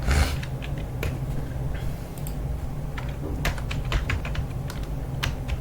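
Typing Java code on a computer keyboard, with a steady run of quick, close key clicks over a low background hum, with no talking.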